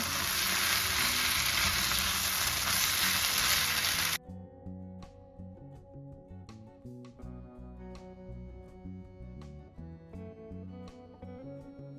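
Minced meat filling with parsley frying in a pan: a loud, dense sizzle for about four seconds, then quieter crackling with sharp spatula scrapes and clicks as it is stirred.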